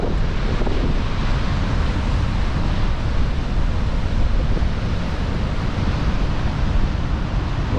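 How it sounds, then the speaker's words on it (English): Ocean waves and heavy swell at Nazaré, Portugal, a constant loud roar of surf mixed with strong wind buffeting the microphone, with no voices. "Well, the waves ain't too big, but the swell is, it looks so powerful, man."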